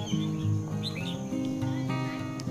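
Red-whiskered bulbul giving short calls rather than full song, several bright chirps and whistled notes repeating close by over a steady background hum.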